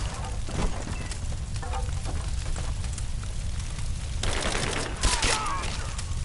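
Covering gunfire in Rise of the Tomb Raider, dense bursts of rifle and machine-gun shots in a sustained fusillade, with a sharper crack near the end, under occasional shouted voices.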